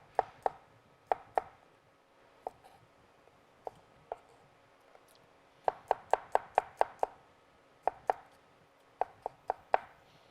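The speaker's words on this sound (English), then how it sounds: "we don't have to mince it super fine since this is a beautiful rustic preparation" Garlic is minced roughly with a knife on a cutting board, a string of crisp wooden chops in uneven bursts and quick clusters, close and clear with no talking.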